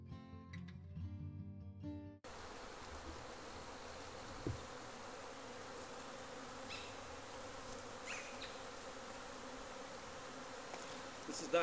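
Honey bees buzz steadily around an open beehive during a final late-season inspection, a dense, continuous hum of many insects close by, preceded by a brief stretch of music before the buzzing takes over.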